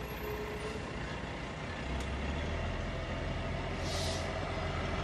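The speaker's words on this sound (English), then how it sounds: "Big truck." A big truck rolls past on the road near a home, its heavy engine rumble swelling into a loud, steady roar and holding close for several seconds, with no voices.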